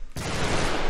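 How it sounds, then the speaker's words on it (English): A burst of rapid gunfire erupts abruptly in Brutal Doom, an unfamiliar weapon firing a dense, loud fusillade that continues without pause after a short quiet opening. "That's a weird gun noise that I don't recognize."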